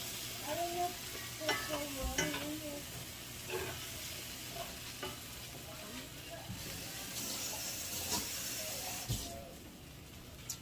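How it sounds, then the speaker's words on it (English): A skillet of carrots and flour deglazed with water, a close sizzling hiss with scraping and stirring knocks against the pan bottom, while someone talks over it. "I'm just going to deglaze the bottom of the skillet with this."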